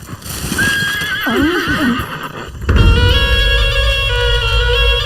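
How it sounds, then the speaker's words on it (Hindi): A horse in a village film scene whinnies with a loud, wavering neigh, then a horse cart starts off with heavy hoofbeats and rumbling wheels that carry on steadily to the end. "अरे भाई मगधीरा, इस घोड़ा गाड़ी को बाईं तरफ से दायां करके पीछे ले लो"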